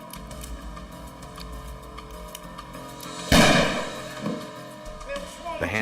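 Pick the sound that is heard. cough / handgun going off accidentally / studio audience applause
handgun going off accidentally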